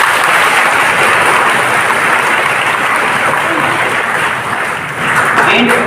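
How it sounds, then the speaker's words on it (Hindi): A school seminar audience at a government higher secondary school in Chhatarpur claps for their teachers, a loud, dense, sustained round of applause filling the hall and dipping briefly before picking up again. "तो एक बार आप सभी लोग अपने टीचर्स के लिए तालियां बजाएंगे।"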